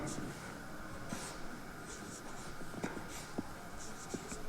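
Chalk or marker scratches out the word verb on a classroom board in short, quiet strokes, with faint room noise and breathing around them.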